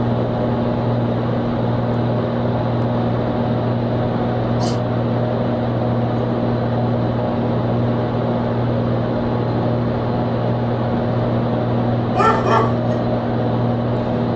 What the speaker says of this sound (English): we got some dogs barking here.